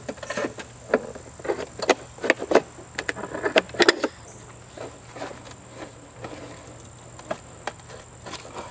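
Thin aluminum sheet for a DIY rocket stove being cut, producing sharp irregular snips and crunches up close over a steady hum, busier at first and then sparser.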